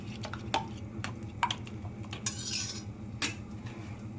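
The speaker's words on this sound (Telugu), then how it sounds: "వేసేసి బాగా కలుపుదాం." A spoon clinks and scrapes against a pot while spices are stirred into a dish, several distinct taps spaced irregularly over a quiet background, close by with no talk.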